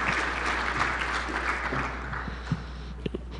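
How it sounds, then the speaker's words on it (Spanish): An audience applauds a conference speaker with dense, sustained clapping that holds at an even level for the whole stretch, set over a faint low hum. "un fuerte aplauso a Gregorio Manzano por su exposición"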